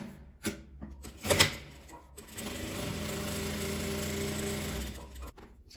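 A sewing machine runs a line of stitching along a seam of a fabric phone-holder bag. A few thumps and handling clicks come first, then a steady, close mechanical whir runs for a couple of seconds before stopping.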